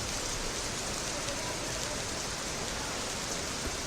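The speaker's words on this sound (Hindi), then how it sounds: "वहाँ भी ज़बरदस्त बारिश हो रही है।" Heavy rain pours down in Guwahati, Assam, a dense, steady hiss of downpour on surfaces filling the whole stretch without letup.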